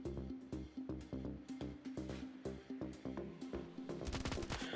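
Rapid bursts of automatic gunfire from the mobile shooter video game Standoff 2 ring out in a steady, evenly spaced rhythm, loud and close, ending in a faster flurry of shots.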